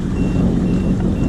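Shallow-water alarm on a 2019 Sea-Doo Fish Pro personal watercraft beeping steadily in a brief burst, heard over a loud, constant low engine rumble out on open water.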